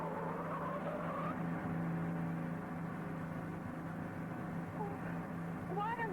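Radio drama effect of a car speeding and skidding around corners: a steady engine drone runs throughout, with short tire squeals rising near the end, all at an even, moderate level.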